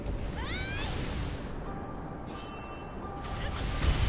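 A cat meows indoors, a few clear rising mews close by over a steady low hum of game background, with a faint tone in the middle and no talk.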